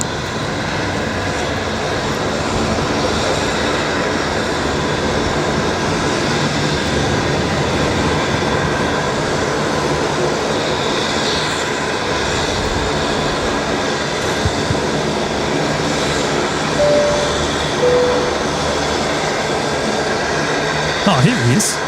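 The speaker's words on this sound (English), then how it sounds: "a lot of noise coming in from that metro as well" Metro train near Brisbane Airport on a rainy night, a broad steady rumble and roar close by that holds without letup, with a faint tonal whine in places.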